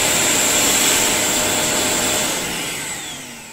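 A Vacmaster VQ1220PFC-03 wet and dry industrial vacuum cleaner runs at full power, a loud, close, steady whooshing roar with a high motor whine that begins easing down toward the end.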